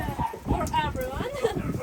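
A very small nursing puppy yipping and whimpering in short high cries, close by, mixed with people talking.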